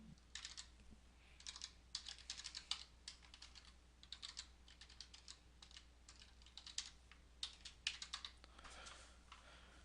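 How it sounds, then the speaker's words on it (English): Soft, close keystrokes on a computer keyboard tap out an email address in quick irregular bursts with short pauses, fairly quiet over a low steady hum. "To add someone new, simply type their email address in."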